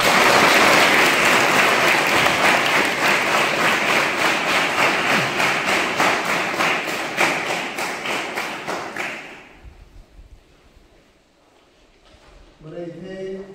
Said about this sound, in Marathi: एकदा स्वतःसाठी जोरदार टाळ्या